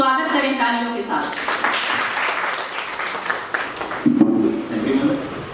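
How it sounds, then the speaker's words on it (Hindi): An audience at a national seminar bursts into steady, dense applause that carries on throughout, with a voice speaking over the clapping at the start and again near the end. "सभी स्वागत करें तालियों के साथ।"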